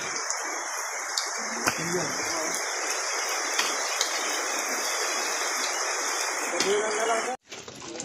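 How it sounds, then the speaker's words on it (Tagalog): Heavy rain pours steadily during a typhoon in an outdoor search for a cobra, a dense broadband hiss that holds close and loud for most of the stretch, then briefly breaks off near the end. "Ayan na yung ulan."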